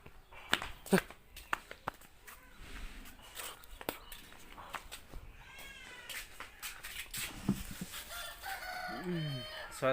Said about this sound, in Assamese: চৰাইজনী কণী পাৰিব ওলাইছে যে, ককাই আছে সেইটো কাৰণে।